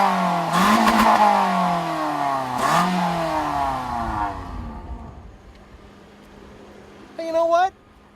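A 2014 Toyota Corolla engine revs up while driving, the pitch climbing and falling through two strong rising sweeps before settling into a quieter cruise, with a short mechanical squeal near the end.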